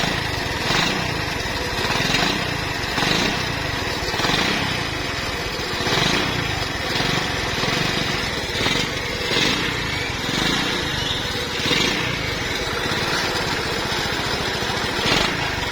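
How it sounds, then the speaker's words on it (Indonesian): A Honda C70 motorcycle engine runs steadily at a smooth, even idle, with a rhythmic putter throughout and no talk. "Suara mesin masih halus."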